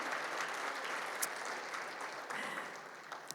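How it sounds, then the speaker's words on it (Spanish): A church congregation claps together in steady, moderate applause, a fairly quiet, even wash of many hands with a few sharper claps standing out. "¿Por qué no le das un aplauso al Señor?"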